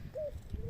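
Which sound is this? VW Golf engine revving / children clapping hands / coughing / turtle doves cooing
turtle doves cooing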